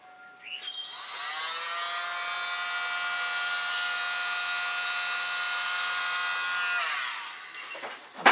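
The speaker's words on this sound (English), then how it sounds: "I think I want to take my little blower" A small blower runs over wet fluid acrylic paint, a steady close whirring hum that starts about a second in and holds evenly for several seconds before cutting off near the end.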